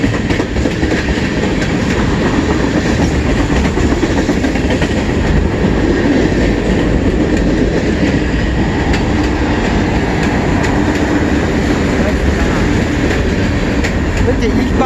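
A CN freight train rolls past at Emmett, Michigan, a loud, continuous close rumble with rhythmic wheel clatter and faint squeal throughout, steady and unbroken from start to finish.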